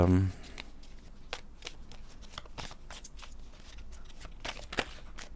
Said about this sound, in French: on va faire une coupe que je ne vais pas regarder non plus. Et on va prendre 3 cartes.